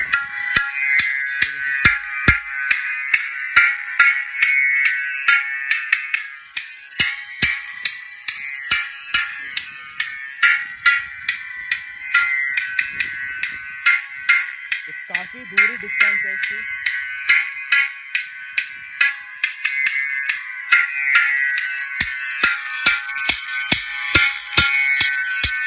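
Test tones played through a 42T HF horn driver, a neodymium unit rated 220 W or 150 W, producing a loud, bright, sustained high-pitched signal broken by rapid repeated clicks and pulses.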